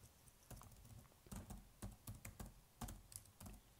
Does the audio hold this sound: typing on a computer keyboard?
yes